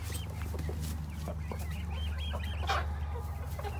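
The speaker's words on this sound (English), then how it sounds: "All the chickens are in here. There's a rooster." Several hens cluck and chatter in a coop housing a rooster and ducks, a busy overlapping stream of short calls close by over a constant low hum.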